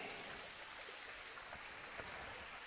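A thin trickle of a jungle waterfall on Koh Lanta, heard as a steady, even wash of rushing water that stays at one level throughout, with no voices.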